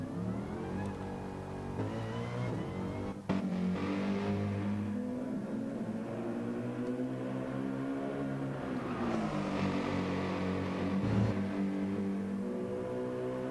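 A race car in a racing video game pulls out onto the track, its steady buzzing engine drone rising and falling in pitch with gear changes, heard close and continuous.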